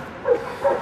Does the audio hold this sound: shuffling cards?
no